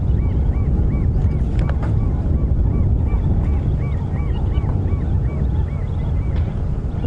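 Repeated soft honking calls of a family of geese sound over a steady roar of wind buffeting the microphone during a sunset safari drive, the calls coming in a loose, bouncy rhythm.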